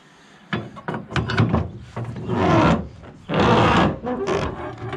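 Load straps on a log truck are ratcheted tight, giving a series of close, loud scraping and clunking pulls in irregular bursts, with short gaps between strokes.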